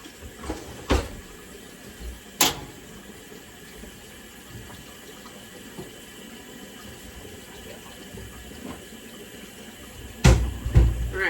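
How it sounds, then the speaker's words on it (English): Tap water runs steadily in a home kitchen as it is left to heat up, a faint low hiss in the background punctuated by a few louder clunks and knocks. "What you hear in the background is water."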